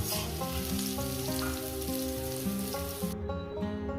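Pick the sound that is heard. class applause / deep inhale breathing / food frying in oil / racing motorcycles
food frying in oil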